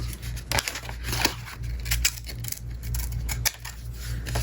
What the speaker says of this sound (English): And then with this one, you're gonna cut out 3 pieces.